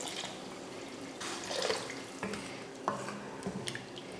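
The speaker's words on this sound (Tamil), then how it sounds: "இப்போ இதில் தண்ணி ஊற்றிடலாம். பருப்பு முங்குற அளவுக்கு தண்ணி ஊற்றிக்கோங்க." Water poured into a pan of fried dal and vegetables on a home stove, giving a soft splashing, sizzling gurgle with a few faint clinks of the pan, quiet and close, with no talk.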